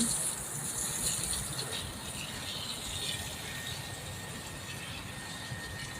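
Water poured onto vegetable garden plants, a steady gushing splash running continuously through the whole stretch at close range, with no voices.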